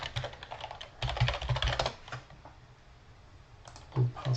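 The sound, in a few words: typing on a computer keyboard to sign in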